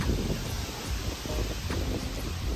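Steady outdoor wind before an approaching storm at sundown, a continuous close rumble and gusting hiss buffeting the microphone, with no voices.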